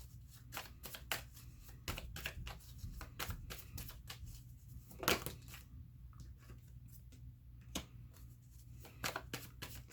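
Tarot cards being shuffled and drawn from a deck: quiet, close riffles and sharp card snaps in an irregular run, with one louder riffle midway and no talking.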